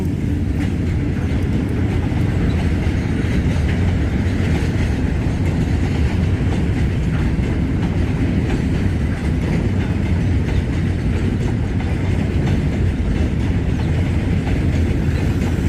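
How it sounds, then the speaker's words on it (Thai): A freight train of yellow container wagons rolls steadily past close by, a continuous loud rumble of wheels on rail with faint clickety-clack throughout and no voices. "นี่ก็เป็นรถสินค้าอีกขบวนหนึ่งที่ มีความสวยงามในตัวขบวนเองครับ"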